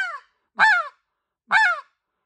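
A hand-blown snow goose call gives three short, nasal barking honks spaced about a second apart, loud and close with silence between them, imitating a single snow goose.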